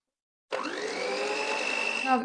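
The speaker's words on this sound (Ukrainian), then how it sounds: "додаю вершкове масло і ще раз гарно все збиваю" An electric mixer starts abruptly and whirs with a steady high hum as butter is whipped into batter for Easter bread, close and continuous for about two seconds.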